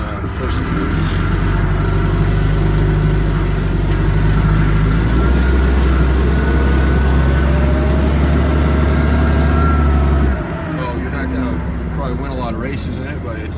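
Hyster S80XL 8000lb forklift engine running loud and close with a steady low drone, rising briefly as it is put in gear and moves, then dropping near the end, with someone talking over it.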